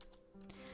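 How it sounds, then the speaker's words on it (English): Brief burst of rapid keyboard typing from a visual novel game, quick clustered key clicks heard close and alone. "the sound of his furious typing on the keyboard"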